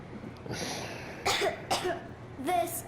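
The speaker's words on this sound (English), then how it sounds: "I have this cough." Several short, soft coughs from a child character in the video game Metro Exodus come in a loose series over a hissy background, with no other voices.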